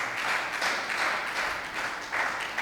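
A church congregation claps during a sermon, with bursts of dense, rhythmic applause rising and falling in waves, moderately loud and without speech over it.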